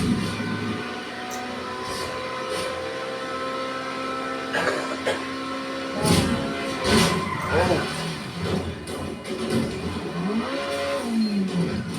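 Cars in GTA 5 during a dragster race, engines revving and whooshing past at mid distance with intermittent bursts and a rising pitch sweep near the end.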